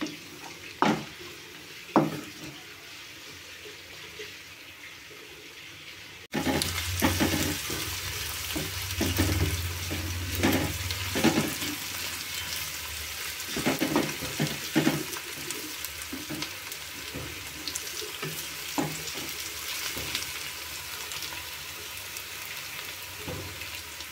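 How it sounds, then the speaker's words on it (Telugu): Chopped onions fry on a medium flame for an Andhra-style drumstick curry. A few quiet clicks come first, then a louder, steady sizzle with repeated scraping stirs of a utensil in the pan. "ఉల్లిపాయలన్నీ వేసుకున్న తర్వాత శుభ్రంగా మీడియం ఫ్లేమ్లో పెట్టి వేపుకోవాలండి."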